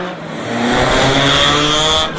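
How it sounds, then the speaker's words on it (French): Race cars rev hard and continuously at a motor racing event in a regional capital in Algeria, the loud engine note rising and holding with harmonic whine, close and steady throughout with a brief dip at the end. "Le deuxième jour a lui été dédié aux courses de voitures au chef-lieu de la wilaya"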